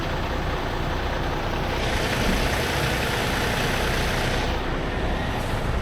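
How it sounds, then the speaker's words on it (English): A loaded semi truck's diesel engine idles steadily at close range with brakes released, a constant low rumble with a slight rise in hiss partway through. "if you leave the truck brakes released, it will it'll stay idling."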